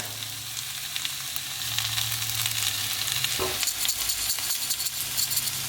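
Spinach and caramelizing onions sizzle in a pot over medium heat, a steady soft hiss with a few brief clinks and stirring scrapes partway through.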